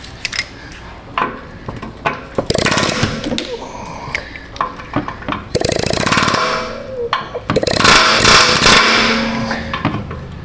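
A power tool cutting into the rear subframe of a Nissan Altima, loud harsh grinding and rattling in irregular bursts with metallic clanks between them, nearby in a garage.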